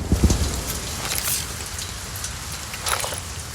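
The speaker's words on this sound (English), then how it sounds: "the sound of the rain pattering against the robot" Steady rain patters across a metal robot's hard surface, a dense hiss of small drops with occasional louder taps, close and continuous, with no voices.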